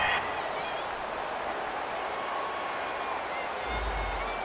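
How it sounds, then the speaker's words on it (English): Home crowd in a football video game, Bengals versus Steelers, applauding a pass interference call with a dense, steady wash of distant clapping and cheering that holds at even volume throughout. "This home crowd, they're happy with that call."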